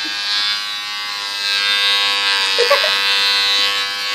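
Electric hair clippers buzz steadily while cutting hair at home, giving a close, loud hum with a bright whine. Near the end, a faint voice or brief rustle comes through under the motor.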